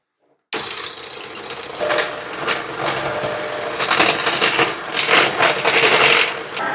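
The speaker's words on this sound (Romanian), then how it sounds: "Acum bat ouăle." An electric mixer whirs steadily while beating eggs in a bowl, a loud continuous buzzing whine with rattling and clinking as the beaters knock the sides, heard alone after a brief silence.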